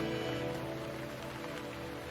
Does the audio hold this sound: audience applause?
no